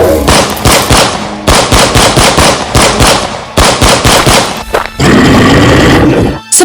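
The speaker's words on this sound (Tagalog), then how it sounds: "Tikman niyo ang bala ng baril ko." Loud, close gunfire rattles off in rapid bursts and repeated shots inside a Filipino aswang horror audio drama. A harsher noisy roar follows at the end.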